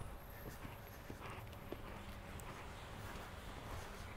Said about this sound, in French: Redresse un peu ton cheval.